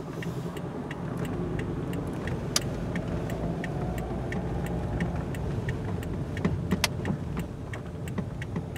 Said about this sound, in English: Pretty light traffic this morning.